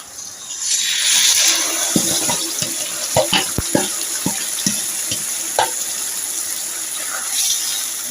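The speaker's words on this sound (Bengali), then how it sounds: "এবার আমি মাটনটা দিয়ে দেবো আস্তে আস্তে করে" Mutton pieces drop into hot oil with browned onions, giving a steady loud sizzle with scattered clinks and scrapes of a spoon in the pan.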